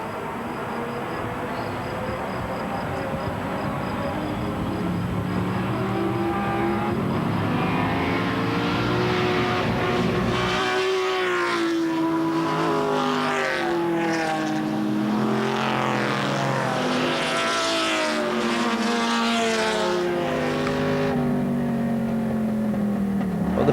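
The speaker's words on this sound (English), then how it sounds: "Another standing start, and we go on board again with Henri Pescarolo on this pretty little circuit winding round the southwest France town" Engines of classic race cars, among them a Ford GT40, on a winding town circuit in southwest France, heard onboard at a standing start. The roar rises and falls through gear changes, loud and continuous throughout.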